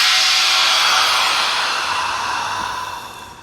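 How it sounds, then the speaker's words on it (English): Air hisses in a steady, broadband rush as a Promarksvac TMC Series non-continuous vacuum tumbler releases its vacuum pressure, the sound fading slightly over a few seconds with no voices. "We're going to release our vacuum pressure."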